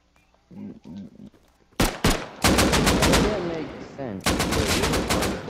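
AK rifle fire in Rust Console Edition cracks out in loud bursts of rapid automatic shots, with a few faint voices and softer sounds before the firing begins.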